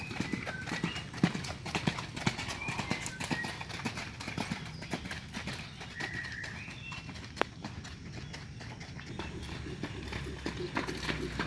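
Racehorse hooves clip-clop steadily and close on the training track at the Sumedang racecourse, the rhythmic footfalls continuing throughout over a busy outdoor background.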